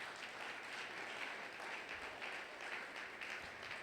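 A church congregation applauding during a Sunday praise and thanksgiving service, steady dense clapping that fills the space throughout, fairly faint and distant with no break.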